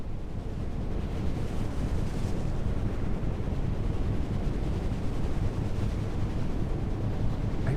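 Steady broadband wind roar in the NAUTIS home ship simulator at about 8.6 knots of wind, continuous and fairly loud with a low rumbling undertone, no voices.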